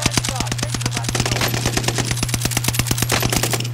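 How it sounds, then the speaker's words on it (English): Rapid automatic gunfire in a one-on-one shooter video game, a long fast burst of evenly spaced shots that stays loud and close over a steady low hum. "I missed all my shots."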